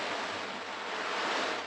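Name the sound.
ocean drum filled with dried chickpeas, peas or pebbles, rolled round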